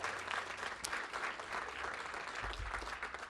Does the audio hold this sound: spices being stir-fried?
no